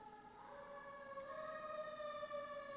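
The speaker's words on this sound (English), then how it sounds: "even as we hear sirens going by" Emergency vehicle sirens wail with a rising, sustained tone, faint and distant as they pass, alone without any talk.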